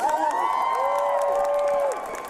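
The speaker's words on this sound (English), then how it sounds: "can I have a round of applause for Loz and Baz, please?" Crowd at a cosplay confidence panel cheering and clapping, with high whoops and shouted voices carrying over a dense, steady wash of applause.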